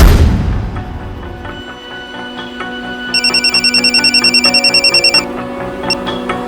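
An incoming call rings a phone in a crime-drama scene. A rapid, pulsing electronic ring lasts about two seconds amid dramatic background music, after a deep boom at the start.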